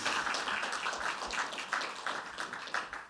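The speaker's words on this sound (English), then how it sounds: "You can clap again." Audience applause at a 2023 New York University Dr. Martin Luther King Jr. Faculty Award ceremony, steady dense clapping from many hands filling a large room throughout, with no voices.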